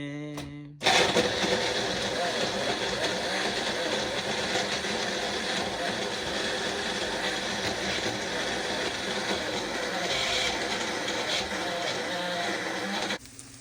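A kitchen blender whirs loudly and steadily while blending a dried fish mixture for a spicy mash, starting abruptly after a brief pause and stopping near the end.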